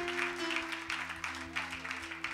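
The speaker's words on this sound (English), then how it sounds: "Give Leo a hand clap." A church congregation claps for one of its members, a modest round of applause over a steady hum, with rhythmic low thumps running underneath.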